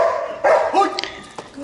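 A female dog barks in the blind, giving a few short sharp barks and yips close by, with no one talking.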